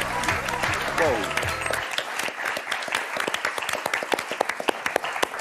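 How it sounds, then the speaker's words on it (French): Studio audience applause on the French game show Motus, loud and sustained, starting over a brief musical sting with voices and then thinning into scattered individual claps. "Damien, Sonia, on vous applaudit très fort."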